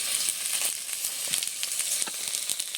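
Whole cumin seeds sizzle in hot oil for tempering, a dense, steady close hiss with frequent sharp crackles and spits, no one talking.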